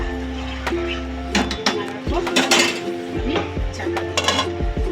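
A spoon scrapes and clinks against a cooking pot while pulao ingredients are stirred, with several sharp metallic knocks and a low hum early on, and a voice speaks faintly in the background.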